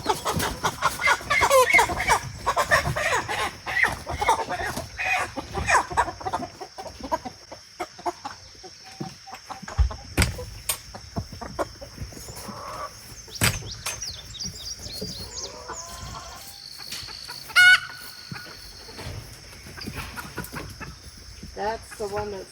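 Six roosters penned together in a homestead run cluck, chirp and call repeatedly at close range, with people talking intermittently among them.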